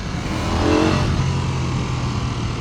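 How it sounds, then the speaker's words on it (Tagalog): 2026 Ducati Panigale V4S motorcycle engine, loud and close, swelling into a rev that peaks early and then settles into a steady roar with wind rush, no talk. "Galit na galit yung makina."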